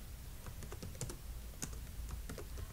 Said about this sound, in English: Select cell A1, then type Ch3a.